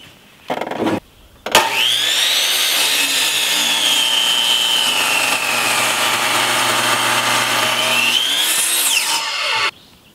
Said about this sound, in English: I'm going to cut 2 more braces on the chop saw